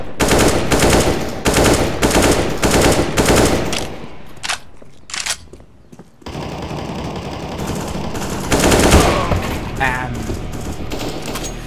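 Loud automatic rifle fire in CS:GO comes in rapid repeated bursts, pauses for a few single shots, then returns, with someone talking over parts of it.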